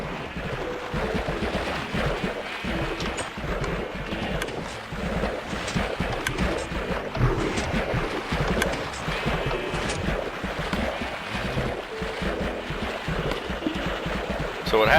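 Minecraft water flows steadily in a continuous rushing wash, like a small stream, running unbroken and fairly loud for about fifteen seconds.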